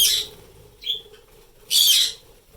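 Pet parakeets chirp indoors in three short bursts: a loud, harsh opening burst, then a brief thin chirp, then a longer loud burst of chatter. A low steady hum runs underneath throughout.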